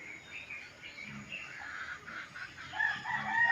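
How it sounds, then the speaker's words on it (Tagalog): Chickens in a garden among damaged plants, with a rooster crowing and hens clucking at moderate distance, the calls rising and growing louder toward the end. "Pinagkakaykay po ng manok ang mga halaman."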